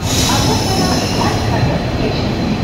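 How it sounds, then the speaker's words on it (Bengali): A train rumbles steadily close by, a continuous broadband roar of wheels on rails filling the whole stretch. "এই হলো আমার ট্রেন।"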